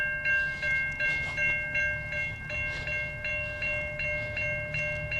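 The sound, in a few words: train approaching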